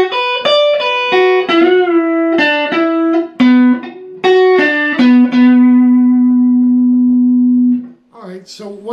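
Electric guitar playing licks, a run of clean picked notes with a bluesy phrase ending on a long sustained low note, loud and upfront, with a brief strum at the end.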